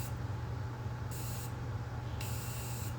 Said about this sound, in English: And it's gonna spray out just like that, but it's gonna be lighter.